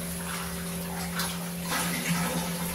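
Water running steadily from a tap to fill a bath for a child, a constant close rushing and splashing with an electrical hum underneath.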